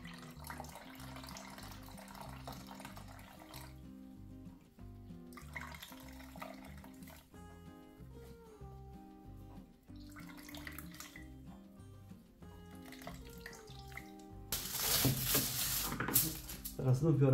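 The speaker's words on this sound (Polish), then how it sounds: "Teraz wycisnę jeszcze tą wodę z tych wiórów." Water from wet wood shavings wrapped in a cloth is wrung out and trickles into a bucket, a soft wet dribble under background music, swelling into a louder splashing rush near the end.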